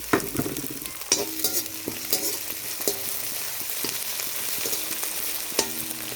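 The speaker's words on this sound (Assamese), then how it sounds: "এনেকৈ অলপ ৰংচোৱাকৈ ভাজি ল'ব লাগে।" Steady sizzling of onion, garlic, ginger and green chilli frying in hot oil, with occasional stirring scrapes, close up and continuous with no talking.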